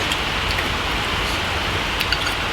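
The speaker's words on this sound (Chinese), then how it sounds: "是 下雨下的不停的" Steady rain pours down outdoors by a reservoir, a dense, even hiss of drops that holds constant and close throughout with no voices.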